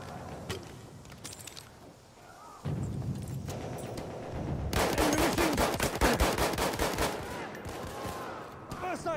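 Machine gun fire from a video game rattles in rapid, sustained bursts, loud and close, mixed with other game sounds and a voice.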